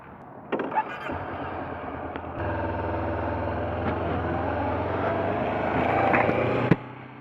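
A Honda CB500X 500cc motorcycle cruising on a highway: a steady low engine drone mixed with rushing wind that swells slightly toward the end, with a couple of sharp knocks.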